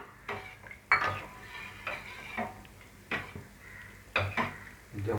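A spoon stirs sago into moong dal payasam in a pot, making about half a dozen rhythmic scraping strokes with soft clinks against the metal, close and moderately quiet.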